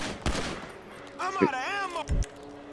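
Gunfire in the video game GTA 5: a few sharp, punchy shots spaced about a second apart, heard alongside a wavering whistling tone and faint game sounds.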